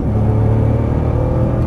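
A Nissan GT-R engine roars under hard throttle on a track, a steady loud close-up rumble with the tone holding through a gear change.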